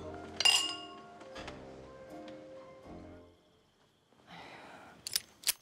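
Glasses clink together in a toast at a Chinese dinner, one sharp, close, ringing chime followed by a quieter pause and a couple of brighter clinks near the end.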